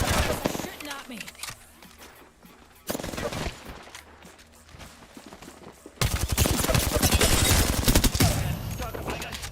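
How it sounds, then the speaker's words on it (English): Gunfire in a first-person shooter video game plays as loud, dense bursts of rapid automatic shots and volleys, growing heavier toward the end, with a voice mixed in. "They're shooting at me."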